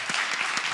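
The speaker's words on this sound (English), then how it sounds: "please give Patricia and Whitney a huge round of applause for moderating" Steady applause from an audience at a church listening session, dense clapping that stays loud and even throughout the short moment with no voices.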